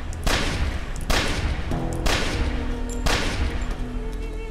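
Rapid gunfire bursts in a shooting video game, four loud sustained volleys with brief gaps between them, heard alone with no talk.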